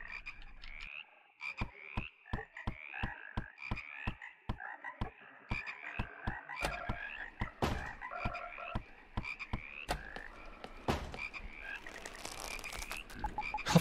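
Frog croaking in the horror video game HOUSE, a steady run of sharp, evenly spaced croaks heard clearly on their own, growing denser toward the end.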